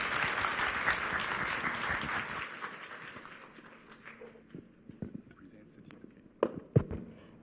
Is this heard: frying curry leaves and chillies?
no